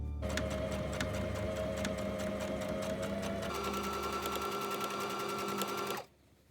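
A sewing machine stitches an elastic casing on the top edge of an off-shoulder bell-sleeve top, a steady whirring rattle that shifts pitch partway through and then stops abruptly before a short silence.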